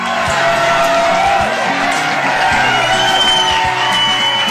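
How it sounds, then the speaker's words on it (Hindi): An auditorium crowd applauds and cheers loudly at a Hindi book launch, continuous dense clapping with whoops and shouts mixed in, sustained at full volume. "पूरा सभागार तालियों की गड़गड़ाहट से गूंज उठा"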